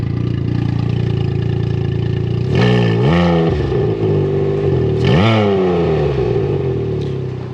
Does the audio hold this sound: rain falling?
no